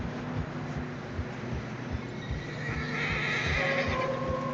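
A horse neighs in deep fresh snow in the video game Red Dead Redemption 2, a loud whinny rising near the end over soft hoof clops and wind, with no talking.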